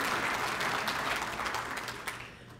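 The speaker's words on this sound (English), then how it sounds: "I know, we all want to applaud." Audience at a school district event clapping in dense, steady applause that fades toward the end.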